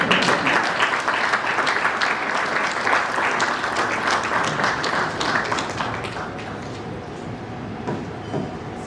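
An audience at a coffee table book launch gives the Prime Minister sustained, full-room applause, a loud continuous roar of many hands that stays steady and then thins a little near the end.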